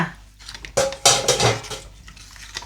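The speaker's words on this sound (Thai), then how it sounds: "คนให้ส่วนผสมเข้ากันค่ะ" Bananas being stirred into coconut milk in a pot for a Thai sweet dessert, giving a few scattered scraping clinks of a utensil against the pot with soft sloshing, close and moderately loud, no talking.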